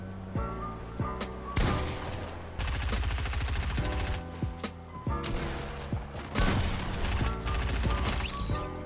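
Rapid gunfire in the video game Fortnite, including pump shotgun blasts: dense bursts of loud shots and clattering mechanical sounds repeating in heavy volleys with brief gaps between.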